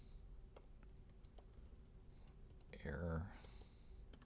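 Fast, uneven typing on a computer keyboard, a run of light clicks close to the mic, with a person talking over it and a louder burst of sound near the end.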